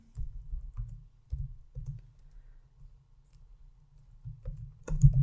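Soft, muffled keystrokes on a computer keyboard, entering a formula in Power BI, arriving in short irregular bursts with brief pauses, close but quiet.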